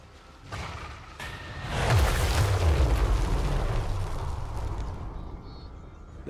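A large explosion in the fantasy battle game Total War: Warhammer 3, with Lizardmen forces under Kroq-Gar: a loud, sustained booming roar swells about two seconds in and slowly rumbles away over several seconds.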